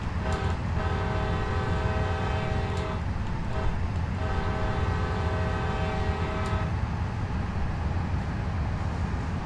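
A locomotive horn sounds in a train simulator game, giving two long, loud blasts with a short gap between them over a steady rumble of the moving train, close and alone with no talk.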